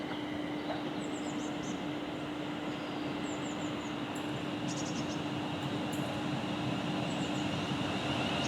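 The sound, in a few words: London North Western Railway train at the station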